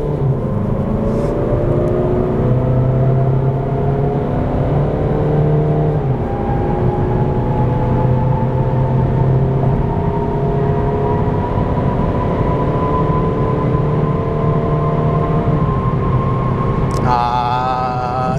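A Peugeot 308 GT accelerates in manual mode from a launch, its engine droning steadily with rising pitch through low gears. A gear change comes near the end, all heard from inside the cabin without talk.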